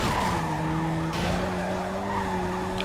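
Handbrake skid in a driving video game: a long, steady, high-pitched tire squeal that holds at constant loudness over engine drone, with no talking.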